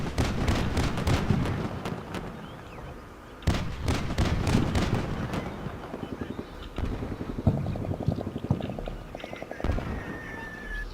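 Artillery shells from a fire mission slam into a building in the Combat Mission Shock Force war game, a run of loud sharp booms and cracks in bursts, with rattling small-arms-like pops and a steady rumbling background.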